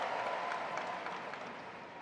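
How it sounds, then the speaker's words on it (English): A tennis crowd at the US Open applauds, a broad wash of clapping at moderate distance that fades slightly over two seconds. "Crowd is getting into it."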